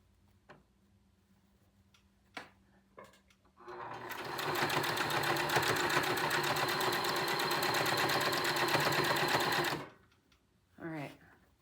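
A sewing machine stitches fabric in a fast, even rattling run of about six seconds, loud and close, with brief clicks and handling sounds before it and a short spoken remark after it stops.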